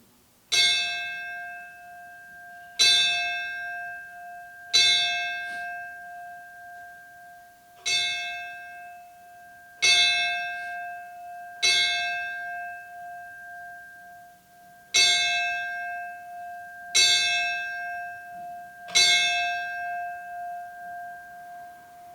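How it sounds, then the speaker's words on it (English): A memorial bell tolls at a September 11 remembrance ceremony, nine single clear strikes roughly every two seconds, each ringing out and decaying before the next, alone with no talk. "never forget with the ringing of the Norman Price Memorial Bell"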